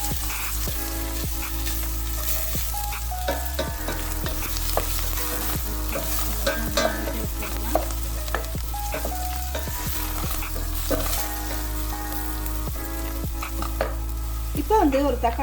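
Raw jackfruit curry sautéing in a pan with ginger garlic paste: a continuous close sizzle with frequent clattering stirs and scrapes of a spoon against the pan, and a steady low background hum throughout.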